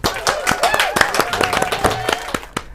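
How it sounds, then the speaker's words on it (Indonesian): A small audience claps for a guest on a chat show, sharp, scattered claps in an uneven rhythm that carry on beneath overlapping voices talking and laughing nearby. "kita kasih tepuk tangan dulu untuk Fauzan Dardiri"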